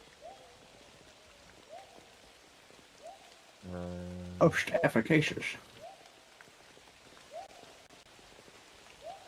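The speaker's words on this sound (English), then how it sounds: "Oh, yeah, it's raining." Steady rain falls in a small forest clearing, a soft continuous patter in the background, with a voice speaking briefly over it.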